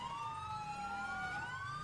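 Police siren in a video game, a continuous wailing tone that sweeps slowly up and down, steady and moderately distant over low engine rumble, with no talking.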